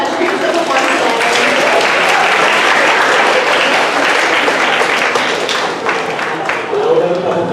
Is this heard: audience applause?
yes